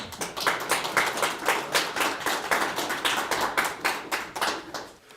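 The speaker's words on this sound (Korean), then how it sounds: "박수로 맞아주십시오" An audience at a Korean startup meetup event applauds to welcome a speaker, steady rapid clapping from many hands in a hall, fading out near the end with no talking.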